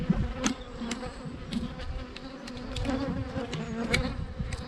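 Honeybees buzzing at an open hive during an inspection, a dense, continuous drone close by with individual bees flitting past, no voices.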